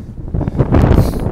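Gusty wind on the Appalachian Trail in the Roan Highlands buffets the microphone in a steady low rumble, rising slightly toward the end, with no talking.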